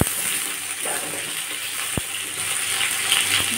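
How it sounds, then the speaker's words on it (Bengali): Potatoes fry in hot oil seasoned with a bay leaf and cumin, giving a steady, loud sizzling hiss with a couple of faint clicks, no voices. "এতে আমি আলু দিয়ে দিলাম।"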